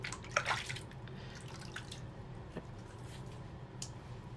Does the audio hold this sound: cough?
no